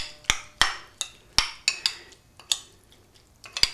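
A spoon stirring a pepper and basil mixture in a bowl, giving about a dozen crisp, ringing clinks at an uneven pace, close and clear with nothing else under them.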